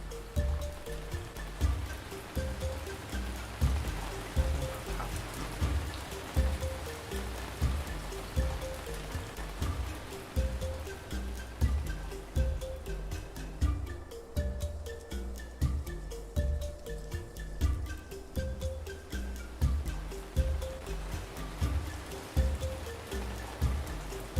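Steady rain falls across a snowy settlement in the survival city-building game Ancient Cities, a continuous wash of patter with gentle repeating musical tones layered over it at a constant moderate level.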